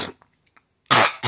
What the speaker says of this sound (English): You see how it clears your throat?